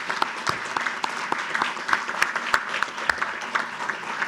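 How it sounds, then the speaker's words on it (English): An audience at a Florida Missing Children's Day ceremony applauds event sponsors, giving dense, steady clapping from many hands that fills the room throughout with scattered sharp claps standing out. "Can I get one more round of applause for all these sponsors?"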